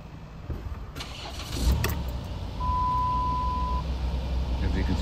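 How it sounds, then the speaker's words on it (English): A Chrysler/Dodge engine idles steadily with trouble code P1745 active and the check engine light on, a low continuous rumble close by, with a brief clunk early on and a faint high tone partway through. "this is how it looks, the engine with the code activated."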